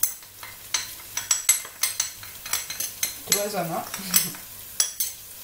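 Spices and salt for Tunisian mhamsa are stirred together in a pan with a utensil, giving a run of close, irregular scraping clicks and taps, with a brief spoken word partway through.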